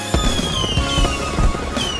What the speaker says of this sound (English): Fireworks burst over the beach as the boys and girl gather around a campfire